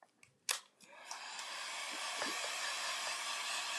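A dryer blows on glossy varnish drying on a silver cake stand: a few clicks and handling knocks, then a steady high-pitched whooshing hiss that starts up and holds evenly, close and moderately loud.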